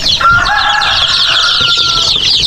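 Chickens in a coop on a small farm, with rooster-like calls and clucking over a steady high chorus of cheeping chicks; continuous and close, with no talk.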